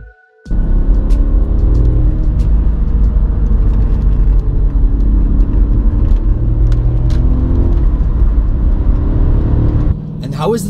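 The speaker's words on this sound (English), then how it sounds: "How is the driving of this Audi S4?" An Audi S4 Avant with a 4.2 V8 and manual transmission drives along, its engine a loud, steady low rumble and whir heard from inside, with a brief quiet start and a dip near the end.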